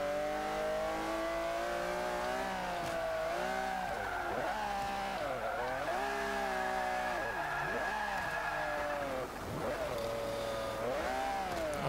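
A 2012 Range Rover Supercharged engine in Forza 5, loud and close, revving up and down repeatedly in rising and falling sweeps with a brief dip near the end, continuing without pause.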